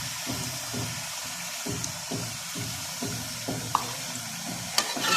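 Chicken fries in a karahi, a continuous sizzle broken by a rhythmic series of scraping stirs roughly every half second, with a couple of sharp clinks near the end.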